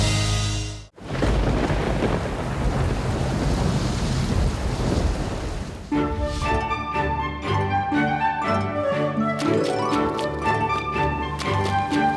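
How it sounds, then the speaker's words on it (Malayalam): Sudden heavy rain with thunder: a loud, steady broadband roar of downpour runs throughout, with a rumbling low burst at the start, then musical tones layered over the rain in the second half. "പെട്ടെന്ന് മഴ വന്നല്ലോ."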